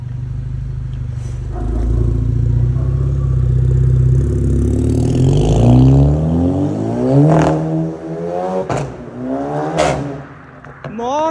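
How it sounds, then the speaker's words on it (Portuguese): A Volkswagen Jetta fitted with a full 3-inch stainless steel exhaust revs loudly and close by, the engine note rising and falling through several throttle blips, with voices talking around it. "o Jetta já com ronco novo"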